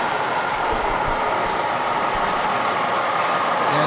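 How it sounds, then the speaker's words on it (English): An HO scale model train runs along a layout at a model train show, giving a steady close rumble of wheels on track with light clicking rail joints. Faint metallic squeals cut through now and then, and no one speaks. "I hear the train coming."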